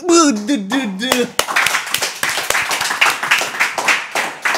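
Several people clap in quick irregular bursts on a casual talk show, close and lively, just after a short sung melody and with speech and laughter around the claps.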